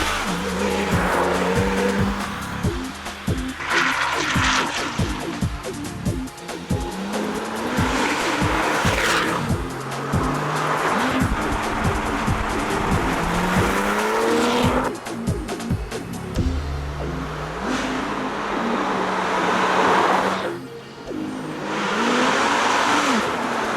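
A new Porsche 911 GT2 driven hard on an empty road, its tires repeatedly skidding and squealing loudly. Engine revs rise and fall under the squeal in a continuous, close run of cornering slides.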